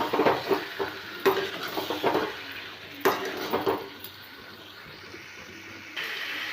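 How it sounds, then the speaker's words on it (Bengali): A spoon stirs boiled potatoes into fried spice masala in a pan with scraping, clattering strokes over a soft sizzle, in bursts for about four seconds, then a quieter steady sizzle. "এবার আলুগুলো দিয়ে ভালো করে মশলাটা আরেকবার মিলিয়ে নিচ্ছি।"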